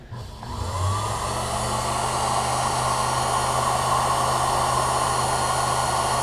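A CG4 cutter grinder wheel grinds a flat onto a tool, giving a steady, loud whining hiss with a constant low hum that stays even throughout, no voices.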